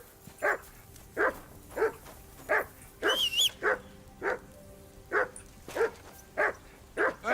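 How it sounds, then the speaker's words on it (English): A dog in the video game Kingdom Come: Deliverance II barks about a dozen times in steady, evenly spaced single woofs, close and clear over a quiet background, with a brief higher sound midway. "Hey, call off that dog."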